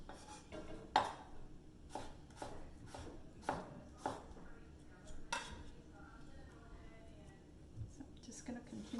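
Knife julienning vegetables on a cutting board for tofu rice paper rolls, a series of sharp, irregular chops and taps, close and fairly quiet, with soft low talk in between.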